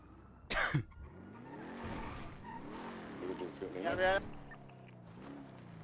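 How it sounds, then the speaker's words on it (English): A vehicle's engine hums and revs with rising and falling pitch in the NoPixel GTA roleplay game, loud and close, while a man coughs and clears his throat over it. "I hear a vehicle."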